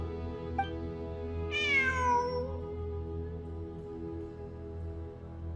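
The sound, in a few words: cat meowing in Genshin Impact video game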